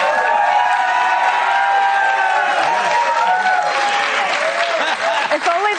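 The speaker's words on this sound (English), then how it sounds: "Let them clap. We're going to just keep clapping." A studio audience claps and cheers in a dense, sustained wave with a few whoops and laughs, staying loud and steady throughout before thinning slightly at the end.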